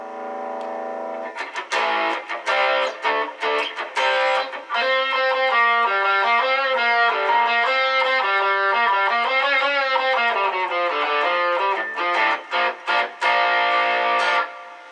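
Electric guitar played through a Boss Katana amp with a RAT-style booster, analog delay and reverb, distorted chords and riffs ringing loudly with sustained notes and short pauses, no voices.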